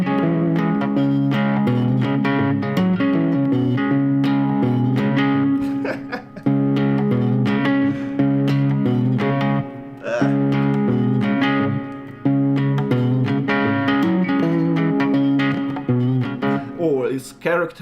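An electric guitar plays a riff in a four-string version, a steady run of plucked notes with quick rolls that continues without pause, close and clear, with no talking over it.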